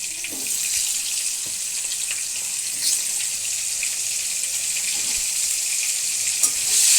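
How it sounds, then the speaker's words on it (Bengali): Pumpkin pieces fry steadily in hot oil in a pan, a continuous close sizzle lasting throughout with a few faint pops and clinks, no talking. "কুমড়োটা লাল করে ভেজে নিয়ে তারপর কপিটা ভাজবো।"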